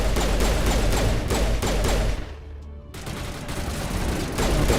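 Turret gunfire in the video game Mass Effect, a dense, loud stream of rapid shots with a short break midway, then continuing heavy and steady to the end.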